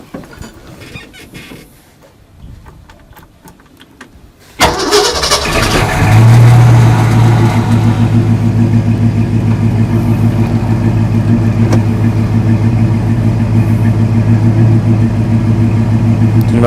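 A 1969 Ford Mustang Mach 1 with a big-block V8 cranks and catches with a sudden loud burst, then settles into a deep, steady, lumpy idle that continues loud and close.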